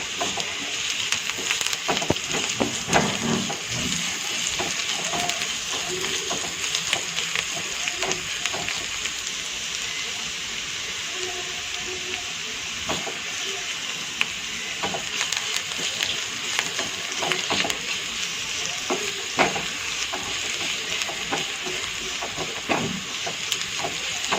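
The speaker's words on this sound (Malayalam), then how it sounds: "കടുക് പൊട്ടി വരുന്നതേ ഉള്ളൂ" Mustard seeds tempering in hot oil for a banana stem buttermilk curry make a continuous hissing sizzle full of dense, rapid crackling pops, steady throughout.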